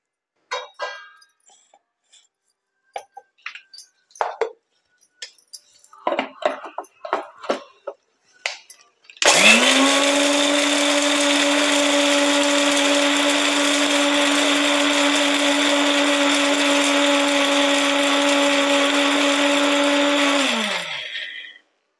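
After several scattered clicks and knocks, a mixer grinder starts up loud and close, whirring at a steady high pitch for about eleven seconds while grinding ginger, green chilli, garlic and fresh turmeric, then winds down.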